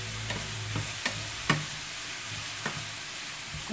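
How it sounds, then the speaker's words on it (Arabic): Chopped peppers, vegetables and ground kofta meat sauté in a pan, giving a steady close sizzle broken by occasional light taps and stirs of the utensil. "نشحرو شويه"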